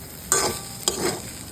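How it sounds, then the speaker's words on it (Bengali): Egg poha is stirred in a hot pan, with a few distinct scraping strokes of a spoon against the metal over a soft sizzle, close by and with no talking. "তো এখন আরো 10 মিনিট নেড়ে চেড়ে নামিয়ে নেব।"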